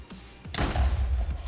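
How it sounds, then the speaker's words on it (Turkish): A brief, muffled Minecraft creeper explosion booms once, leaving a low rumbling tail. "Patladı Creeper."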